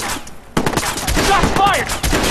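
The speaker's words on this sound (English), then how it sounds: "Shots fired!" Gunfire in the game Watch Dogs, a dense rapid volley of loud shots that starts abruptly and continues throughout, with sharp ringing tones mixed into the din.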